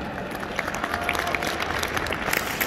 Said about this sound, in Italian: Facciamo innanzitutto un bel applauso